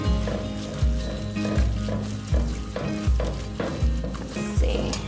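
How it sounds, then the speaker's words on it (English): Flour is stirred hard into sour cream fat in a pot while making Norwegian rømmegrøt porridge, producing a steady, rhythmic scrape-and-slosh about once a second, close by and without talk. "now I'm just gonna dump in the rest of the flour. And we're gonna stir vigorously"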